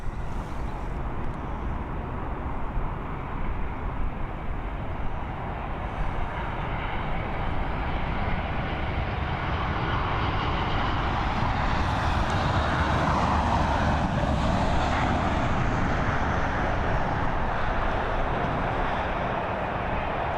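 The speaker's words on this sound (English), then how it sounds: "a Boeing 737 operated by Ryanair" A Ryanair Boeing 737 comes in to land at Dublin Airport, its broad jet roar steady and fairly loud throughout, swelling slightly toward the middle as the aircraft passes.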